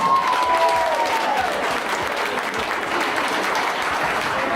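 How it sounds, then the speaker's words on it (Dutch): Audience applause at a carnival prince proclamation in Maasbracht, a dense, steady clapping from a full hall that stays loud throughout with no talk over it. "Geef ze daar een applaus."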